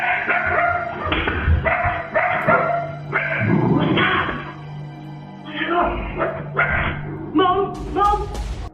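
A dog barks repeatedly in short bursts, some yips mixed in, against an indoor room tone with other household noise; the barking comes in clusters rather than alone.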